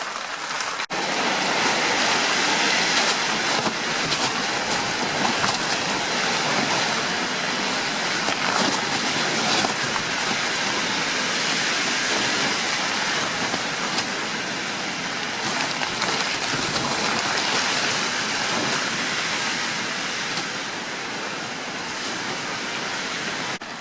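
Heavy storm rain pounds steadily on the roof of a boat, a dense, loud, continuous hiss and patter close overhead that holds without a break, with no voices.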